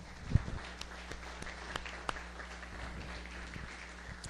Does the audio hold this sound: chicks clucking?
no